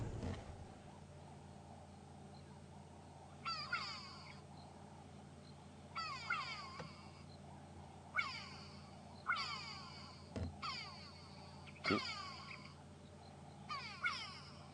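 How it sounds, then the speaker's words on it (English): A grey go-away-bird's harsh, nasal calls play from a recording in the African bush, repeating in short descending bursts roughly every second or two over a low idling vehicle hum. "It really has a call that sounds like go away. So I'll just play that for you."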